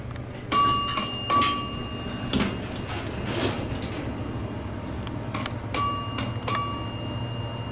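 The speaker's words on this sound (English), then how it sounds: "let's see if I can sample the chime this time" Arrival chime of a Dover elevator, clear bell-like tones ringing twice with a pause between, over steady machine-room hum and a few faint clunks.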